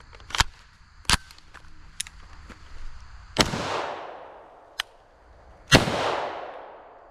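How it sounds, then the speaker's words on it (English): Unsuppressed B&T TP9 firing supersonic 9mm rounds into dirt outdoors: two loud, sharp cracks with long echoing tails, preceded by several smaller clicks and knocks of handling. "I'm going to fire 2 shots unsuppressed with supersonic ammunition, slow fire into the dirt"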